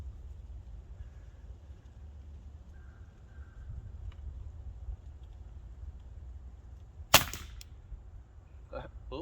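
A modified Marauder air rifle fires a pellet once, a single sharp crack standing out near the end against a low steady background hum, with nothing else around it.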